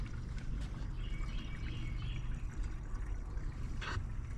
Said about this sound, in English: we're just draining out all the old used oil into these cans before we get started.